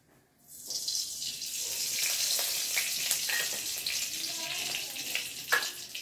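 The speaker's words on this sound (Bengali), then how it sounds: "এইবার একটুখানি সামান্য সর্ষে ফোড়ন দেবো" Mustard seeds sizzle and crackle in a small amount of hot oil for a Bengali besan masala dosa. A steady close frying hiss carries light pops, with faint background voice.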